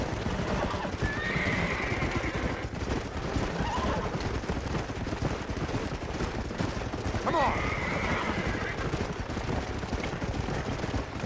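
Horses whinnying and clip-clopping hooves in the Red Dead Redemption video game, two distinct neighs over steady hoofbeats on a continuous outdoor bed, with a voice speaking faintly underneath.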